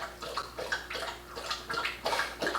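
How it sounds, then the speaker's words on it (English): A dog drinking water, with a steady run of rapid wet lapping splashes that comes in short bursts and stays close and clear. "My dog is drinking his water."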